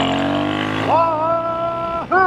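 A Royal Enfield Himalayan 452 motorcycle with an AEW performance exhaust pipe idles with a deep thrum, then revs up to a steady higher note, drops briefly and blips again, loud and close.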